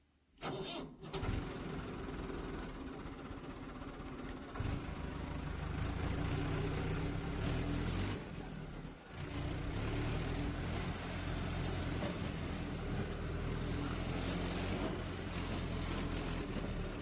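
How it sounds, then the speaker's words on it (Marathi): A tractor engine starts up and runs, a steady low mechanical rumble after a brief cranking at the start, close and continuous with a short dip midway. "मग आपण ट्रॅक्टर पण काढला पुढे"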